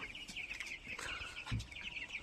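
Seventeen-day-old Tiger breed chicks out sunning themselves, a dense chorus of high, rapid cheeping and peeping close by, with a soft low thump partway through and no talk.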